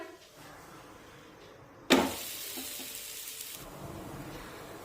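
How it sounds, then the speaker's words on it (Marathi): A cabbage paratha hits a hot, oiled griddle and bursts into a loud sizzle, which settles into a steady frying hiss that fades a little after a couple of seconds. No one speaks. "आणि आता या तव्यावर आपण पराठा भाजून घेऊया"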